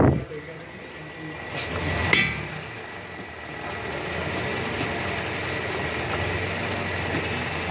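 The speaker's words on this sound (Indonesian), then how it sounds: "Kalau aus nimbulin bunyi kasar di mesin" A Toyota Camry 2.5 engine with a worn balancer shaft idles with a rough, uneven, diesel-like rumble, preceded by a couple of sharp knocks; the steady drone continues close by.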